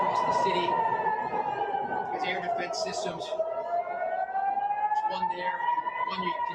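Air raid sirens wail during a ballistic missile attack on Tel Aviv, a loud sustained rising-and-falling tone with layered overtones, steady throughout, with a voice speaking briefly over it.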